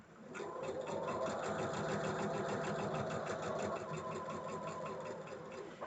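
Close, steady whirring chatter of a sewing machine stitching down and attaching a piece on a Moda Blockheads quilt block, running continuously at an even pace with no voices.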